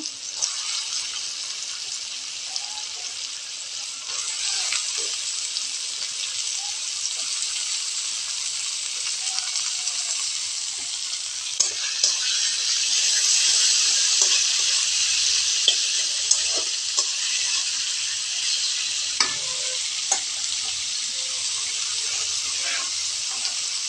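Potatoes and vegetables frying in a pan after onions and tomatoes, a continuous close sizzle and hiss with occasional stirring clicks throughout.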